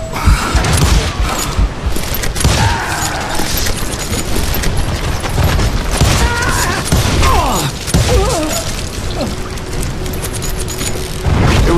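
Heavy gunfight in the Western shooter Call of Juarez Gunslinger, with rapid overlapping gunshots and booming impacts filling the whole stretch, loud and continuous, plus brief faint voice fragments.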